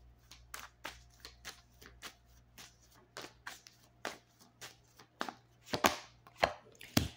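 Tarot cards being shuffled by hand, a run of crisp riffling slaps and flutters arriving in quick irregular bursts, growing louder and sharper toward the end, close up with no voices.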